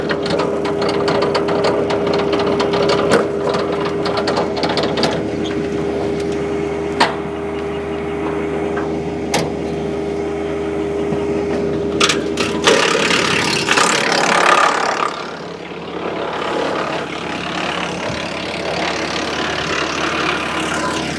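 A Woodland Mills WC46 wood chipper engine runs steadily on its first run, a loud, close, continuous mechanical drone with a persistent low hum and occasional clanks, the tone shifting slightly partway through.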